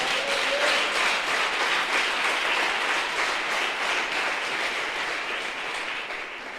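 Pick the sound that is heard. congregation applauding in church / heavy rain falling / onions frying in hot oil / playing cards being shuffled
congregation applauding in church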